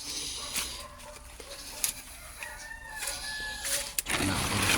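Chickens, including brooding hens, cluck and call in a rural yard in the aftermath of a strong typhoon, with scattered crowing-like calls and clucks mixed into steady outdoor background noise.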